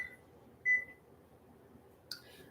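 A kitchen timer sounds in a home kitchen while snickerdoodle cookies bake, giving short electronic tones with a quiet gap between them, near and clear.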